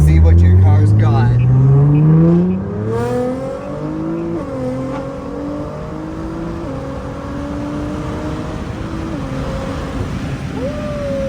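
An 800+ horsepower GTR pulls hard at full throttle up an on-ramp, the engine note climbing steadily, dropping briefly at a gear change and climbing again, loud and continuous from inside the car.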